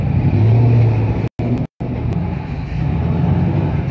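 Chevrolet Camaro GS on the Sebring circuit, a loud close engine rumble with a low drone that cuts out twice briefly, then continues steadily.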